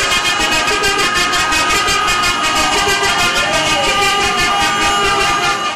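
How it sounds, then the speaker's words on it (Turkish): A convoy of 249 taxis crossing a bridge in Istanbul, a dense continuous wall of many car horns honking together with traffic roar, loud and unbroken throughout. "Fren ve kornalar çalındı."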